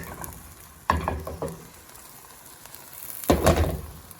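Egg whites, egg and oats cook in a pan with a soft, steady sizzle, broken by two louder bursts of clatter or stirring near the start and end.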